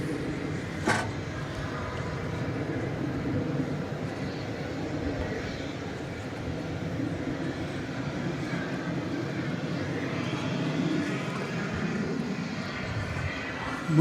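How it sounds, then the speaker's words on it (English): An American Airlines jet, flight 680 to Pittsburgh, taxis into position at DFW Airport at night, its engines giving off a constant low roar with a brief click near the start and light talk in the background. "Moving into position there is American Flight 680 to Pittsburgh, Pennsylvania."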